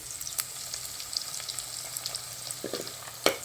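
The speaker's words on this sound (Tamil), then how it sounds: "வெங்காயம் வதங்கினது போதும் இந்த அளவுக்கு நல்லா வதங்கியிருக்கு பாருங்கள்" Onions, garlic and green chillies frying in a pan, with a faint, steady sizzle and light scattered crackles, and a sharper clink of stirring near the end.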